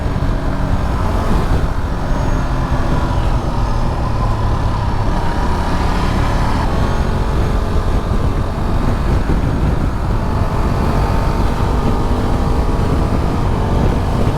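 Ducati Multistrada V2S adventure motorcycle ridden on twisty, sweeping roads, a steady loud engine drone with wind rush that holds constant throughout without pauses.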